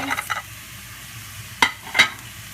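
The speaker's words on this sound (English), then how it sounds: "we're going to saute this for like a couple minutes" Chopped vegetables for chicken lettuce wraps sauté in a hot pan, a low sizzle with a few quick stirs and two distinct clanks of a utensil against the pan, no voices.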